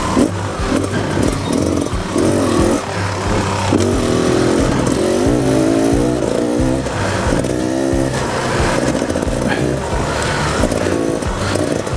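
A Beta Xtrainer 300 two-stroke dirt bike, a 300 engine in a 125 frame, revs and rises and falls in pitch close by, its rough buzzing note continuing throughout with talk faintly mixed in.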